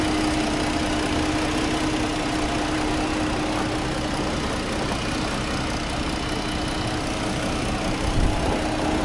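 Steady idle of a Jeep Cherokee Trailhawk 4x4's 3.2-liter V6 with VVT, a constant low hum with a faint tonal drone, heard close and alone with no talk.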